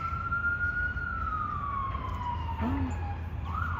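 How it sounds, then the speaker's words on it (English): An emergency vehicle siren wails in a long, slowly falling tone, fairly distant, over steady street rumble beside Central Park in New York City, starting to rise again at the end. "I can hear the siren."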